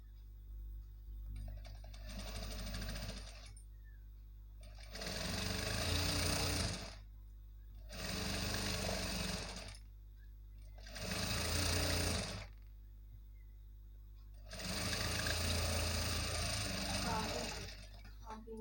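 Sewing machine stitching a puff sleeve, running in five separate bursts of steady mechanical whirring and needle clatter separated by short pauses, close up and clear over a low background hum.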